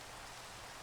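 Soft, continuous rain hisses in the blocky sandbox game Minecraft, a very quiet, even patter of drops with no other sounds.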